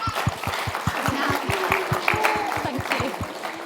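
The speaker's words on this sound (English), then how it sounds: "I think we need to give everybody a round of applause." A room full of people gives a steady round of applause at a church gathering, loud, even clapping that carries through the whole stretch with no talk over it.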